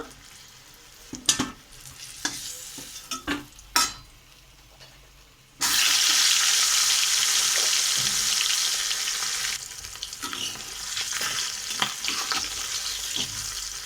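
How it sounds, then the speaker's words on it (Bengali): Fish frying in hot oil in a wok for a fish curry: a few clinks and knocks first, then a loud, steady, crackling sizzle fills the rest, easing only slightly toward the end. "এইভাবে সবকটি মাছ ভেজে নিচ্ছি"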